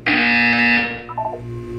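A loud electronic alarm buzzer from the video game Portal 2 sounds in a single sustained blast, harsh and tonal, close and alone, then fading out with a faint trailing tone.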